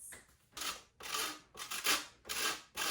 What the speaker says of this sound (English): while I grate some lemon zest into the wet ingredients